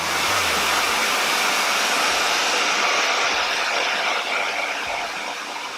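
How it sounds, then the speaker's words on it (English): A hair dryer on high heat blows air through an old wig, a loud, steady close-up rush of air that holds evenly for several seconds with no talking. "I always lift to blow dry the wig because I want to make sure that the air is flowing through"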